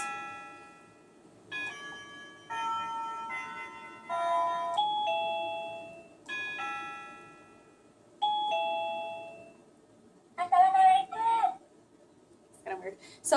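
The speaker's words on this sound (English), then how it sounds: "there's that standard one that it will ding a couple of times" A series of different electronic chimes from a MECO wireless doorbell play one after another, some with two dings and some single, separated by short pauses, followed by brief clicks.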